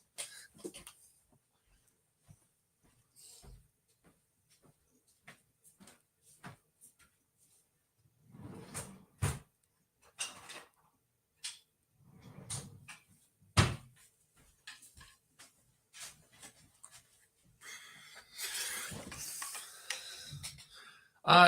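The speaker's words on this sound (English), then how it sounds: "They're in my drawer. I'll go and grab them." Scattered knocks, rattles and clatters of a drawer being pulled open and rummaged through for wooden spoons, irregular and sometimes sharp, with quiet stretches between bursts and a busier jumble near the end.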